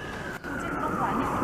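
A police car siren on code 3 wails along a downtown street in Montreal, a rising and falling tone sweeping under city noise and passing voices.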